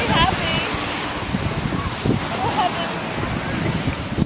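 Ocean surf at a Cape May beach on a clear June day: a continuous washing roar of waves mixed with wind buffeting the microphone, with faint, indistinct voices in the background.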